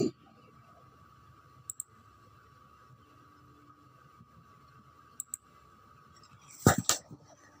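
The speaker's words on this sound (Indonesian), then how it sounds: "Kalau sudah, kita klik apply." A computer mouse clicks while working in MySQL Workbench: a few sharp, quiet clicks spaced apart, some in quick pairs, over a faint steady hum, with a louder cluster of clicks and handling noise near the end.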